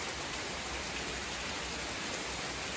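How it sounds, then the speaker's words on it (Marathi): Heavy rain pours in a dense, steady hiss, loud and unbroken, with nothing else standing out. "पाऊस खूपच वाढला मित्रांनो."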